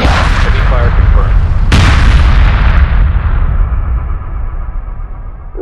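Heavy space-battle weapons fire from Homeworld 2 Remastered, loud and dense: continuous booming shots and explosions, with a sharp blast near the middle and a long rumbling decay trailing off at the end.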